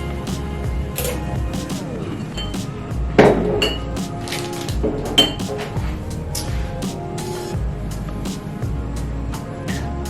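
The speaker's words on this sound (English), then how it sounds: "So we're going to strain this over new ice into a rocks glass." A cocktail is strained over fresh ice into a rocks glass, with clinks and knocks of ice and glass and a sharp tap midway, all over a steady low background rumble.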